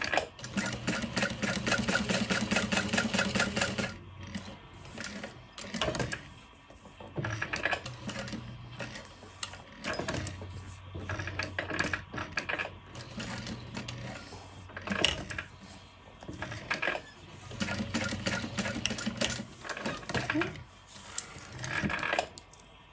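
A sewing machine stitches a convertible backpack at a long stitch length, close and clattering in short bursts of rapid stitching separated by pauses and handling noises, with no talking.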